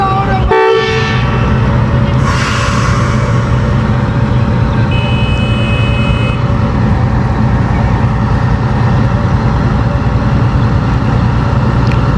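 Rehman Baba Express pulling away from Attock City Junction, a sustained loud rumble of the departing train with a brief horn toot near the start and steady, close mechanical noise throughout.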